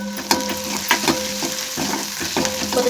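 Prawns coated in turmeric fry in a pan with a steady, loud sizzle, broken by a few scraping stirs, heard up close with no voices.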